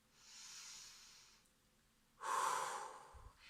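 Two slow, deep belly breaths are heard close up, a long soft inhale followed after a pause by a stronger, louder hissing exhale.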